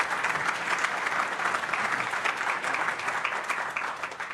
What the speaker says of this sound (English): that deserves a round of applause for a moment.